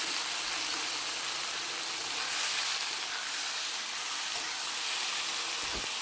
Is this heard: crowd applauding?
no